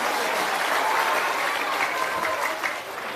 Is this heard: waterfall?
no